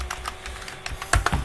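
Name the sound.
typing a search on a computer keyboard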